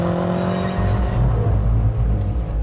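Synthesized exhaust note of a BMW M5 with a 7-speed double-clutch gearbox, played through the car's stereo: a loud, continuous engine drone that deepens and swells partway through, with no talk over it.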